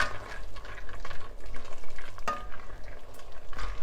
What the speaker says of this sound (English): So I'm just going to add that in, stir it around